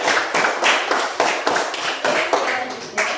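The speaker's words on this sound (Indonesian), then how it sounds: "tepuk tangan untuk Frecia." Classroom applause for a student, a group clapping in rhythmic, evenly spaced bursts about three per second, close and fairly loud.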